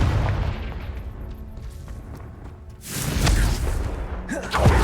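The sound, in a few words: Confringo blast spell exploding in the video game Hogwarts Legacy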